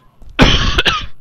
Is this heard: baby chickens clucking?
no